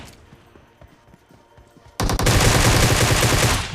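Sudden burst of rapid automatic gunfire in a battle royale video game, loud and close, following a quieter stretch of faint game sounds.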